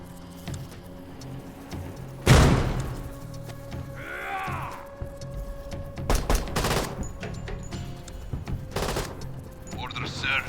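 A frag grenade goes off in the tactical shooter Door Kickers 2 with a sharp blast, followed by several quick bursts of gunfire and a distorted radio voice, all over a low game ambience.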